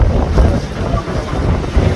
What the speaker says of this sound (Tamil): இப்போ புயல் காற்று வந்து கடுமையா அடிச்சிட்டு இருக்குங்க.